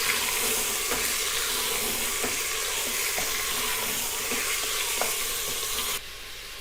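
Mutton frying in a pressure cooker, a loud, dense, continuous sizzle with faint stirring knocks, close, ending abruptly before the last half second.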